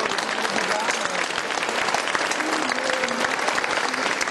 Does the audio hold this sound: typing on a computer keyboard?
no